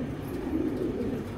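A breeding pair of racing pigeons sits in a nest pot, giving a low, steady throaty cooing close up, with no talk over it.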